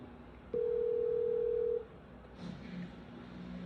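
A telephone line on an outgoing call to a property seller gives a steady ring tone of a little over a second, then quieter line noise with faint beeps afterward.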